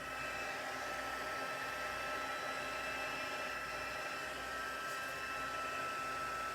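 An electric heat tool blows steadily and loudly for several seconds, a constant whooshing hot-air roar aimed at embossing powder melting on cardstock, with no talking.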